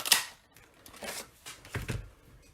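A handheld leaf punch cuts leaf shapes out of paper for a card, giving a few sharp, close clicks and crunches spaced out over a couple of seconds.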